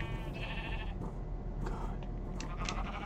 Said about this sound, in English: I'll put the sheep in the big pen.